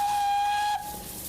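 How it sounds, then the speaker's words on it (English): A single shrill, steady whistle tone held for under a second before cutting off abruptly, loud and close over a faint background hiss. "Here's your whistle."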